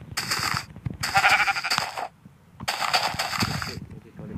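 Sheep bleating in the Minecraft video game, three loud synthetic bleats in quick succession with short gaps, close and clear, over faint clicking game sounds.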